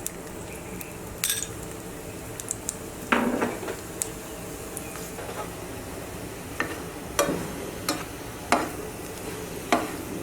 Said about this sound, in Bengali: সেমভাবে এই পরোটাটাও ভেজে নেব।